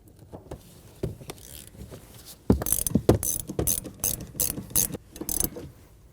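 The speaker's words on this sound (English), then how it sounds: "Using a 19mm wrench, we're going to snug down the nut, and we'll use a T40 bit to hold the stud." A 19mm ratcheting wrench snugs down the strut nut on the rear shock of a 2008-2015 Scion xB, giving bursts of rapid close clicking with metallic knocks between strokes.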